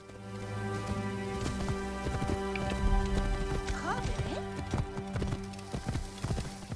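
Horse hooves clop and patter in a quick, uneven rhythm over a steady musical backdrop, close and moderately loud, in the video game Assassin's Creed Origins.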